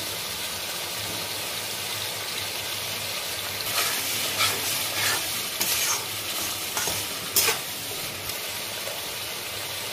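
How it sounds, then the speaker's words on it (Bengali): Tomato puree sizzling and being stirred in a hot pan for a soybean kofta curry: a steady frying hiss with scraping spoon strokes and a few sharper clinks midway. "এরপরে টমেটো পিউরিটা দিচ্ছি। সঙ্গে দেবো নুন,"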